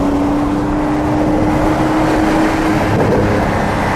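A loud 2023 Porsche 911 (992) Sport Classic engine drones steadily nearby, a deep continuous roar with a brief tonal whine early on.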